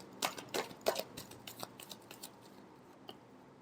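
Tarot cards are shuffled near and softly, a quick run of papery riffles and taps that thins out toward the end, with no talking.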